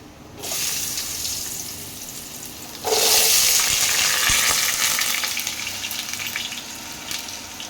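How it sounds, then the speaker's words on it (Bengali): Cut potatoes drop into hot oil with cumin and bay leaves in a pan, setting off a sudden loud burst of sizzling that roars on and slowly settles. "আলুগুলোকে এবার ভেজে নেবো"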